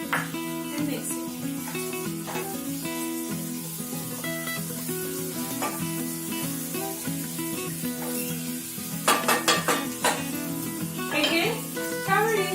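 Cauliflower sabzi with chopped tomato sizzles and hisses in a pan as it is stirred, the frying noise steady under background music, with sharper bursts of spattering toward the end.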